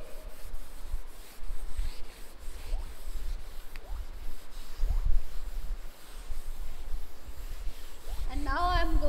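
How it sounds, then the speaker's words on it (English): A board in a classroom is rubbed clean with steady, repeated scrubbing strokes, close and moderately loud. A voice speaks briefly at the end. "Now I am rubbing the board,"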